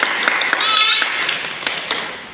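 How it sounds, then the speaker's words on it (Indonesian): A few sharp, scattered hand claps ring out in a classroom to reward a student's correct answer, with voices mixed in over this short burst. "Ya, benar. Beri aplaus."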